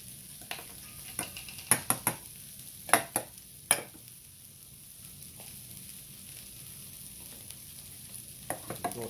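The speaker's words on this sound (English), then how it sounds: "Stir this up real good." A spoon stirs mayonnaise burger sauce in a bowl, a series of soft scraping clicks and taps in irregular clusters over a faint, steady background hiss.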